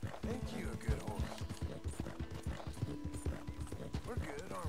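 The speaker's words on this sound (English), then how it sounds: "Ain't you a good horse?" Horse hooves clip-clop steadily in a Western-style open-world video game, a rhythmic run of close, even footfalls with mechanical clicking and someone speaking over them throughout.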